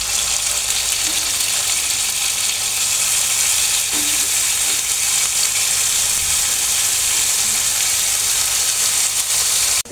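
Bitter gourd fries in a pan with a loud, dense, continuous sizzle that holds steady and close throughout, with faint clinks now and then.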